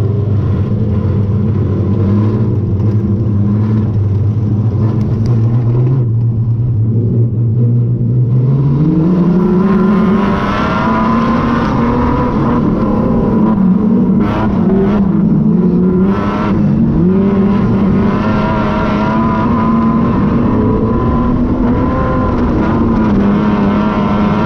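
Wingless sprint cars roar off the start of a race at Archerfield Speedway, a loud, dense engine drone climbing in pitch as the pack accelerates, then sustained throbbing revs with passing swells.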